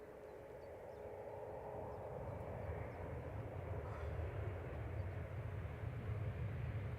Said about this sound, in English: Coming in from Izmir with flight 834. This is a 737-800